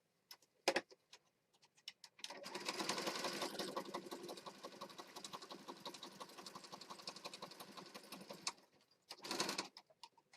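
A sewing machine stitching decorative lines along a Christmas junk journal page, a close, fast, rhythmic whirring run of about six seconds, framed by a few brief clicks and short bursts before and after.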